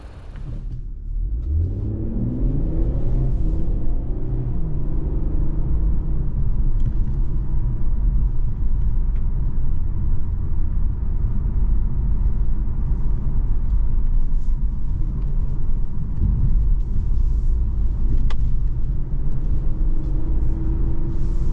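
A 2023 Infiniti Q50 Red Sport 400 AWD pulls away with a rising engine note in the first seconds, then settles into a steady, loud cabin rumble of engine and road noise.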